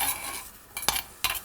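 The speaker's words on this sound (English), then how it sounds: "I'm going to saute the radishes in perilla oil." Radishes sauté in perilla oil in a pot, a soft steady sizzle broken by two quick spoon clinks and stirring scrapes near the end.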